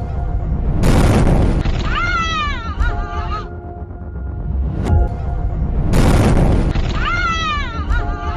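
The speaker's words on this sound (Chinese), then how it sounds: "当时一辆槽罐车在高速行驶中突然侧翻发生爆炸" A tanker truck rolls over at speed on an expressway in Wenling and explodes. Two loud, heavy booms about five seconds apart each roll out into a sustained roar, with whooshing and wavering tonal sounds layered over them.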